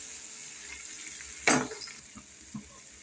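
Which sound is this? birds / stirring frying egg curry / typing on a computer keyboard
stirring frying egg curry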